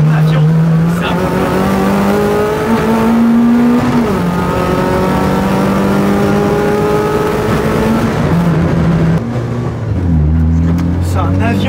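A powerful Citroën AX track car engine revs hard on the road, its pitch climbing through gear changes and dropping at a shift near the end, loud and close.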